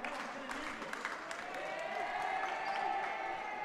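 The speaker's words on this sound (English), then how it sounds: "A warm reception from the crowd" Crowd in a packed high school gym applauding and cheering as the home boys basketball team is introduced, steady broad clapping with a few shouts throughout.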